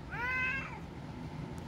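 Feona, a house cat, gives one clear, fairly loud meow lasting about half a second, then quiet indoor background remains.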